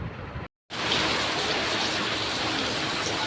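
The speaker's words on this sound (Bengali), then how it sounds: "হালকা হালকা নামতেছে বৃষ্টি।" Light rain falling outdoors in a village, a steady soft hiss of drops on surfaces after a brief silent gap at the start.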